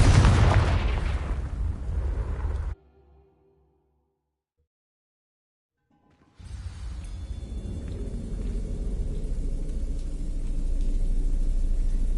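A Confringo explosive spell in Hogwarts Legacy bursts as a deep, loud booming blast that rumbles and fades into near silence, followed by a resumed low rumbling game ambience.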